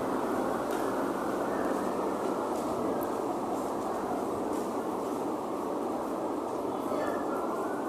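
A train arrives and runs past, its steady loud rumble filling the whole stretch with an even, unbroken roar.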